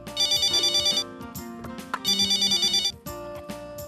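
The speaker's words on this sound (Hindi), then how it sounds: "फोन उठाइए।" A telephone rings indoors in a family sitcom setting: two loud electronic ring bursts, each with a rapid warbling pulse, separated by a short pause with light background sounds.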